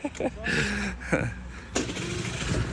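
A Honda Dio AF-34 carbureted scooter engine starts on the button, short cranking bursts catching into a light idling buzz, close by, while someone talks over it.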